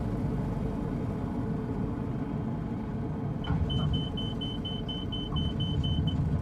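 Simulated KitFox Speedster Series 7 light aircraft in Microsoft Flight Simulator, engine at idle on the landing approach: a constant low rumble, with a short repeating electronic beep tone joining partway through.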